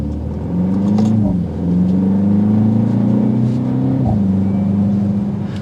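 A 2024 BMW X2 M35i accelerating hard from standstill to 60 mph without launch boost, engine note climbing steadily through two gear changes, loud and heard from inside the cabin with no talking.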